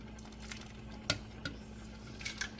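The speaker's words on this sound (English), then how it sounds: "Stir that up real good." A spoon stirs Zuppa Toscana soup with heavy cream in a pot, giving a soft, steady wet swirl close by, broken by two or three sharp clinks of metal against the pot and a few quieter taps near the end.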